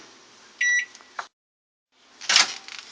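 A microwave oven on its frozen vegetable setting gives a short run of beeps, falls silent for a moment, then starts up with a louder whirring burst, close by with no talking.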